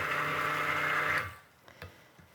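A stick blender runs in a loud, whirring burst through soap batter, then cuts off abruptly, leaving quiet with a couple of faint knocks afterward.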